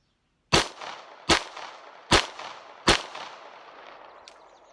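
Four evenly spaced handgun shots during a shooting drill, each sharp and loud with a short decaying tail, fired at a steady fluid cadence with no talking.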